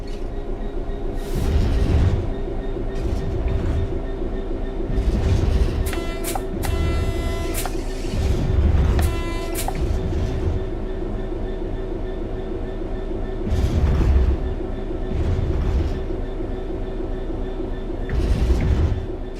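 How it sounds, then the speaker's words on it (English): A locomotive coasting on level rails in the Train Sim 4 game, with a low steady engine drone, periodic rumbling thumps of wheels over rail joints and brief high squealing tones, continuous and without talk. "The train will then coast on level ground, and the train will only slow down very gradually."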